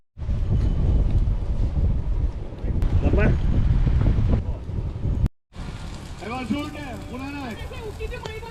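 Strong wind roars and buffets the microphone at an outdoor cooking spot, a loud, steady rush that drops out briefly midway, with a voice speaking over it in places.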